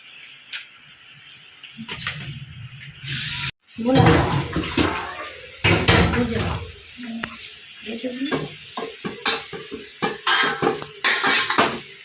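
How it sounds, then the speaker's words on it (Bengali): Water is poured into a pot while cooking, splashing and gurgling close by in uneven bursts, with a voice speaking over part of it. "আমি জলটা ঢেলে দিই"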